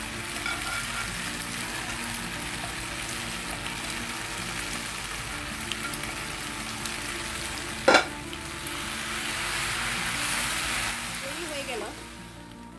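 Scrambled eggs being fried and stirred into pasta in a home kitchen pan, a soft continuous sizzle with scraping stirs and one sharp clack of a utensil partway through, no talking.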